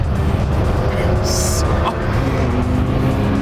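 A cheap, underpowered Ferrari engine held at full throttle on a road trip, giving a steady, loud drone with a brief higher whine in the middle and no rise in pitch.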